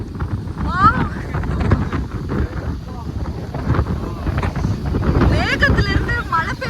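Strong gusting wind sweeps across the jungle hills at BR Hills during rain, roaring and buffeting the microphone without a break while voices and faint bird calls sound underneath.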